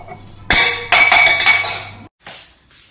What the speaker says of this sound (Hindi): पानी का गिलास गिर गया जल्दी से